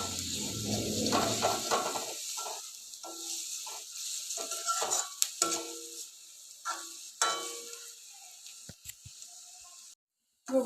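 Ginger garlic paste fries in a pan for pav bhaji with a close hiss and sizzle mixed with stirring scrapes and light clinks, fading over the last seconds.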